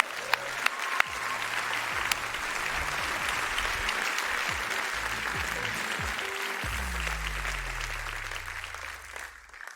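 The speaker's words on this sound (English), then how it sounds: "You deserve a big applause." Steady, dense applause from a large audience at the BMW CES 2023 presentation of the iVision Dee concept car, sustained for about ten seconds with a few sharper claps early on and a low rumble underneath.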